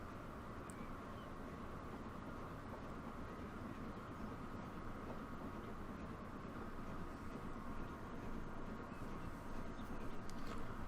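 A Flying Scotsman steam train runs in Transport Fever 2, a steady low rumble that continues evenly throughout with no voices.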